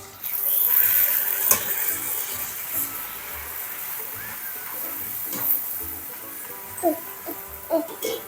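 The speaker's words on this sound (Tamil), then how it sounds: "எண்ணெய் நல்லா சூடாக இருக்குது, அதனால போட்ட உடனே பூரி வந்து கருகிரும்." Puri sizzling and frying in very hot oil, a steady crackling hiss with small pops and spatters throughout, heard close up.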